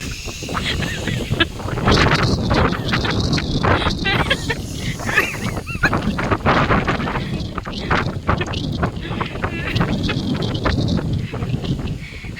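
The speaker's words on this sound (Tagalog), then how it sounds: "Lakas ng hangin, grabe." Strong wind gusting outdoors near a lemongrass patch, a steady loud roar buffeting the microphone throughout, with people talking over it.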